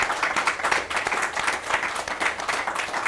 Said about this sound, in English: They deserve a clap on that.